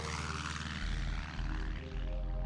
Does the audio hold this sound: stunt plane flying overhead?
yes